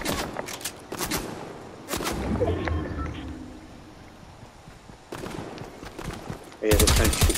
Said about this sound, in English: Yeah, they're trying to shoot me.